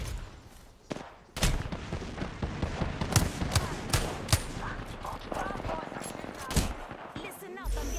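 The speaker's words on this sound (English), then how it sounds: "Listen up, I'm getting shot at." Video game gunfire in rapid automatic bursts and single shots, loud and close, with a sudden heavy burst after a brief quiet, continuing in clusters under occasional speech.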